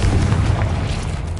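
Bombarda spell explosions in Hogwarts Legacy, a deep continuous rumbling boom with loud low-end energy sustained through the whole short burst.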